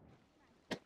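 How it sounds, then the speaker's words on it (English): A single short, sharp bomb blast in the VR game Animal Company, quick and fairly loud after a quiet stretch, ending abruptly. "You detonated the bomb."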